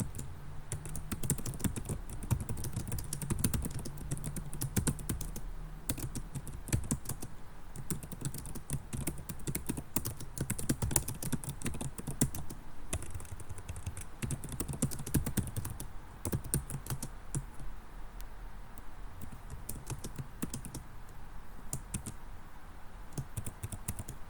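Steady typing on a computer keyboard, close and fairly quiet, with continuous rapid key clicks and brief pauses running for about twenty-four seconds.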